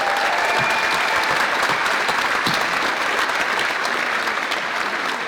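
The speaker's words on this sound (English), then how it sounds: "Give yourselves a round of applause." A large graduation audience at a high school ceremony applauds steadily, a dense, loud wash of many hands clapping that holds for several seconds without letting up.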